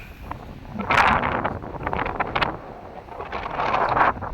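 Gusty wind buffets the microphone in rising and falling surges, loud and close, with a rustling roar peaking twice and no voices.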